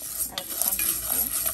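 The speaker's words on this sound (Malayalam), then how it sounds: "വറുക്കുമ്പോൾ ഇങ്ങനെ ഇളക്കിക്കൊണ്ടിരിക്കണം." Split moong dal is stirred while it roasts in a pan over a medium flame, giving a continuous scraping rustle with a soft sizzle, close and steady, with no talk.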